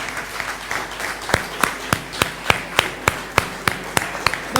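An audience at the Art and Humanity prize ceremony in Dakar 2020 applauds the winner with loud, evenly spaced rhythmic claps over a steady crowd murmur.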